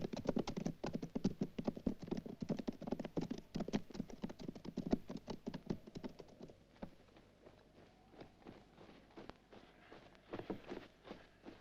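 Rapid hoof clip-clops from several tired horses, loud and close at first, thinning out into slower, scattered steps toward the end.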